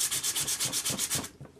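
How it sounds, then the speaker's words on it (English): A faceted ring rubbed side-down on sandpaper in quick back-and-forth strokes, about ten rhythmic rasping passes close up, then a softer final stroke. "let you sand the side of the ring without sanding your fingernails"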